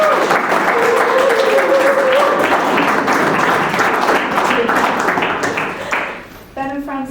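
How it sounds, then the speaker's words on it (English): Guests at a wedding ceremony clap warmly in a full, steady round that fades out, followed by a voice beginning to speak. "We are going to do a little bit of a clap because that's a really special moment"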